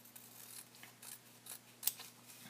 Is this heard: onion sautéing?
no